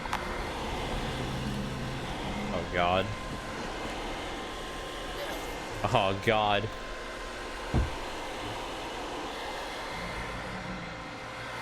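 A steady, loud, whooshing drone from a glitched vacuum tool in the video game Abiotic Factor runs unbroken throughout, while a man exclaims briefly over it a few times.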